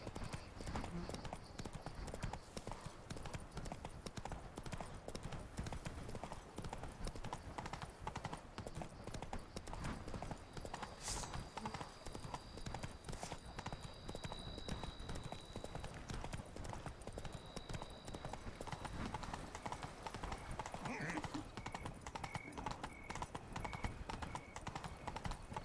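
Roach, the horse in The Witcher 3, gallops with a rapid continuous drumming of hooves, steady and close throughout, with a brief whinny partway through.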